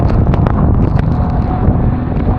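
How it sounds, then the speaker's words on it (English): Gale-force wind gusting up to 40 knots buffets a boat near the shore, a loud, continuous roar rushing across the microphone with no talk. "Wow, it's blowing a gale out here."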